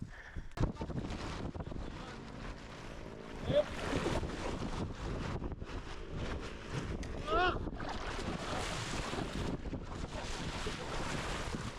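Steady wind buffeting the microphone outdoors in the woods, with a continuous roar and occasional louder gusts throughout.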